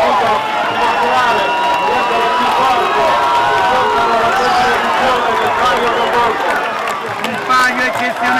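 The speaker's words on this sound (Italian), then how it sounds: "Un applauso al Centrano" Crowd at the Palio del Golfo rowing race in La Spezia applauds and cheers the winning Fezzano seniors crew, a steady wash of clapping and voices under an Italian announcer speaking throughout.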